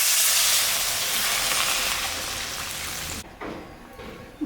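Loud, steady hiss of water hitting a sizzling spiced curry base in a hot pan while making a fish curry with potatoes, the sizzle roaring for about three seconds before cutting off abruptly into quieter bubbling.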